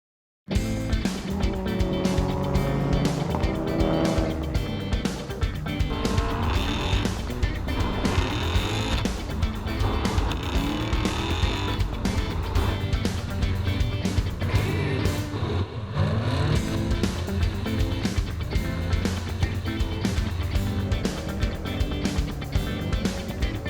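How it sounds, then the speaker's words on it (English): HBF Maloo Drift Ute driving hard in a drift with its tyres smoking, a loud sustained engine roar running continuously throughout, with no talking. "we smoke up the tyres big time and go drifting with Josh Robinson in the HBF Maloo Drift Ute."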